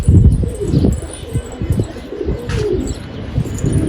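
Pigeons flying and landing near a rooftop coop, with bursts of wing flapping, soft coos and chirps close by, busy and fairly loud with no talk.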